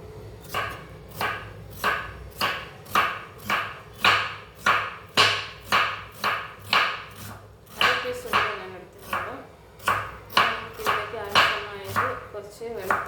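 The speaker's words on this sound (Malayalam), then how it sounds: "അപ്പോൾ നമ്മൾ ചെന്നയ്ക്ക് വേണ്ടിയിട്ട് ഒരു കഷ്ണം ഉള്ളി അരിയാം." An onion is chopped with a knife on a board, heard as a close, loud, steady run of about twenty evenly spaced chops, each one crisp and sharp.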